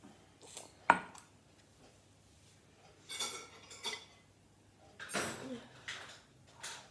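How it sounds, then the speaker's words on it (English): An egg going into a bowl of cake mix at home, a sharp single crack on the bowl rim followed by soft scraping and clinking of utensils against the bowl, close and fairly quiet. "I'll put my eggs in now. So, one egg."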